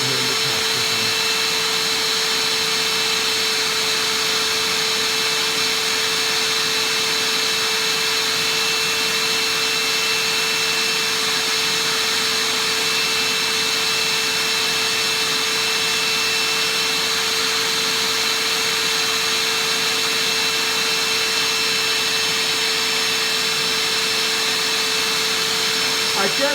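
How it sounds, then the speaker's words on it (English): The vacuum of a Moth Mark II Pro record cleaning machine runs loud and close, a steady unbroken whine with a constant hum that does not change for the whole stretch. "this is the vacuum"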